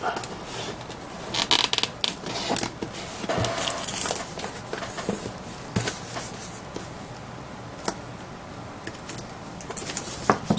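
Plastic shrink wrap being cut and torn open on a heavy 1965 Plymouth Satellite Moebius 1:25 scale model car kit box, a steady run of close crinkling, scraping and snipping sounds with no talking.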